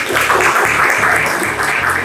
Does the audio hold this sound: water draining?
no